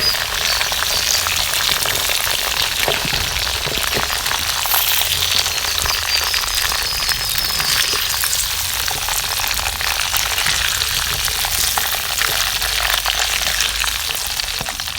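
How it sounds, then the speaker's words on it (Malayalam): Chicken fry sizzling steadily in a pan, street-stall style, with a constant dense crackle of hot oil throughout and occasional faint scraping as the pieces are turned over. "അപ്പം നമ്മുടെ ചിക്കൻ ഫ്രൈ ഇതാ തിരിച്ചും മറിച്ചും ഇട്ട് മുറിച്ച്"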